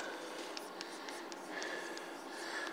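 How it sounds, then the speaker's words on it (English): Chalk writing on a board during a university mathematics lecture, soft repeated taps and scratchy strokes over a steady room hiss, faint and without talk. "So let me just write"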